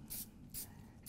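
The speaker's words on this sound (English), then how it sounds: "Just going to spray this onto the leaf." Lacquer hisses from a spray can onto a sugarpaste leaf in three short, soft bursts, with no talking.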